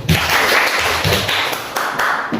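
Brisk burst of hand clapping from a classroom audience during a teaching practice session in Indonesia, many hands close by, sustained and fairly loud with slight pauses.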